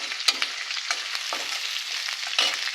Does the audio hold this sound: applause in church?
no